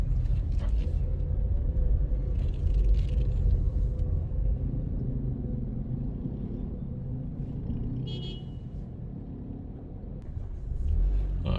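A car drives through New Kingston city streets toward Knutsford Boulevard, a steady low engine rumble with road noise and a brief toot, heard from inside the vehicle.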